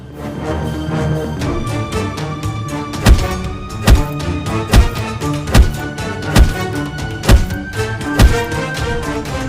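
Dull thuds of someone being beaten land against a dense music bed, loud and near, coming in an irregular series of about eight heavy blows after the opening seconds.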